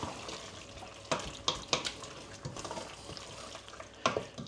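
Mushroom goulash made with oyster mushrooms being stirred in a pot: wet scraping and gentle sloshing with a soft simmering sizzle, a few louder clacks of the spoon against the pot.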